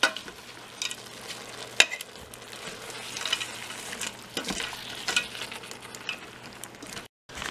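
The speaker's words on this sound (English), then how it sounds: "it's going to ask you to mix in the bag full of veggies, so we're going to mix that in" A bag of vegetables is stirred into chicken inside a Cosori pressure cooker, giving a quiet, uneven run of spoon scrapes and soft food clatter with a few sharper clinks and a light background sizzle.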